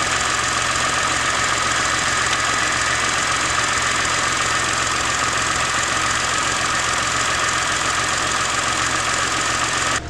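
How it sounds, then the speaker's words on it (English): Cooling fans on a car that sat untouched for years, whirring steadily and loudly alongside the idling engine in a constant, unbroken drone close by. "Hey, the cooling fans work. I hear them kicking on."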